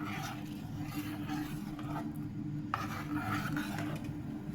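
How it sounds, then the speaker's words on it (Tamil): Sweet colostrum milk pudding with cardamom powder being stirred in a pot, a steady close scraping and rubbing of a spoon against the metal that continues without pause, with no talking. "ஏலக்காய் தூள் கொஞ்சம் போட்டுக்கலாம் நல்லா கிளறி கொடுத்துக்கலாம்"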